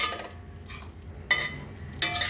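Handmade sweet vermicelli lightly fried in a pan, with spoon scraping and stirring against the metal in a few short bursts over a faint background sizzle.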